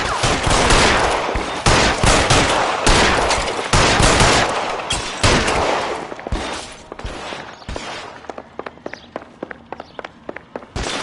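Gunfire in L.A. Noire comes close and loud in dense, overlapping volleys, then thins into sharp separate shots that keep cracking until the end.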